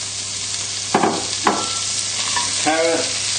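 Close, continuous hiss of leeks frying in oil in a pot for a chicken casserole, with a few soft clanks and stirring scrapes over the steady sizzle.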